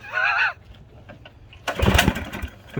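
A budget mini bike engine cranks over after a brief voice, giving a rough, sputtering burst of mechanical churning that rises and holds for about a second, fairly close and loud.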